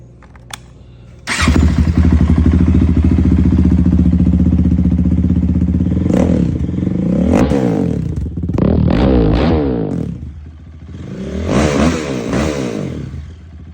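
A 2014 Honda TRX450ER sport ATV with a full aftermarket exhaust fires up after a brief quiet moment, settling into a loud, close idle, then is revved several times in rising and falling bursts.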